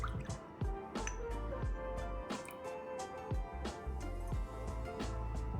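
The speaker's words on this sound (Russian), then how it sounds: "Смешиваем небольшое количество соды и обычную воду." Baking soda and plain water stirred together in a bowl for a pastry glaze, a series of soft, close drips and liquid clinks at an irregular rhythm over a quiet kitchen background.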